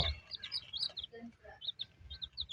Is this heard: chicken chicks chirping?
yes